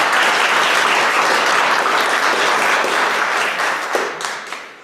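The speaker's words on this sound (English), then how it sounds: "So let's give ourselves a round of applause." A congregation at a church meeting breaks into a round of applause, a dense, steady wash of many hands clapping that holds loud for several seconds, then thins out and tapers near the end.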